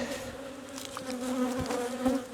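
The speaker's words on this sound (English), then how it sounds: "These flying bees will go back to their location." Honey bees buzz around an open beehive as a small colony is tended, a soft, steady drone with individual bees swelling briefly louder as they fly past, fairly quiet overall and with no speech.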